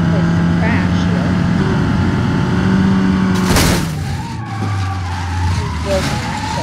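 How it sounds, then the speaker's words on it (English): A car crashes in the BeamNG.drive video game: an engine drone, then a sudden loud impact burst with scraping and tire noise, followed by a lower rumble as someone talks. "let's find a nice place to crash here."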